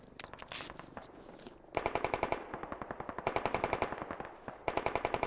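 Automatic rifle fire in the military shooter game Squad: rapid bursts of loud, sharp shots with short pauses between them. A burst near the start is quieter and more distant, and the strings that follow are close and heavy.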